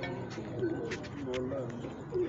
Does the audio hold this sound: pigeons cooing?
yes